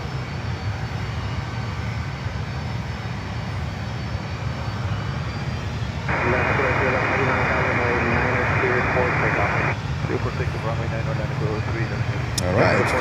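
A LATAM airliner's engines spool up at Miami airport, a steady roar that swells sharply midway into a loud, broad takeoff thrust, with a faint voice underneath at times.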